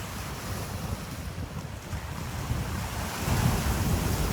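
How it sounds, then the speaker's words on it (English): Atlantic Ocean surf rolls at the mouth of the Demerara River near Georgetown, a steady broadband wash with heavy wind buffeting the microphone, swelling slightly louder toward the end, with no voices. "out here is the Atlantic Ocean"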